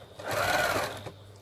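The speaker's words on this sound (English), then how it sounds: "I'm just going to sew all the way along" A sewing machine stitching along a cotton double-layer face mask, one short buzzing run that speeds up and tails off, close and clear with no voices.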